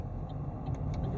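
A car approaching along a suburban road in Tallaght, heard as a low, steady rumble of engine and tyres, moderately distant and faint, with no talking.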